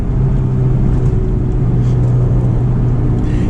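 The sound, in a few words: 2004 Honda S2000 engine while driving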